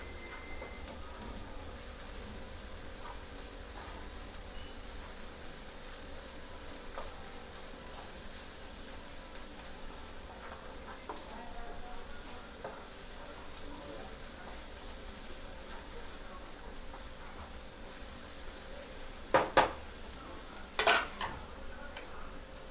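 Fried potato Manchurian being stirred in a pan, a steady soft scraping and rustling hiss throughout, with a few sharper clanks of the spoon against the pan near the end; no voices.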